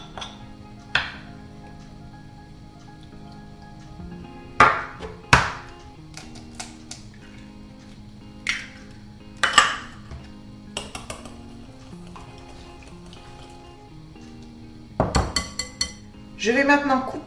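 Egg and milk being stirred into spiced corn batter in a bowl, scattered clinks and taps of utensil against the bowl with quiet stretches between, close and fairly sharp.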